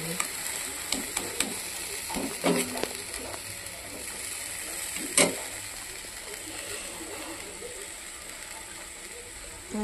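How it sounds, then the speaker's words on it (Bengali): Tomato masala sautés in a pan over a low flame, with a soft continuous sizzle under scattered spatula scrapes and clicks and one sharper knock midway. "এটা সুন্দর করে কষতে থাকো। গ্যাসটা এই সময় লো ফ্লেমেই আছে।"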